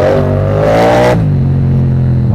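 An MT motorcycle engine revs loudly and close, its steady roar climbing in pitch before dropping back to a lower drone after about a second, with no talking over it.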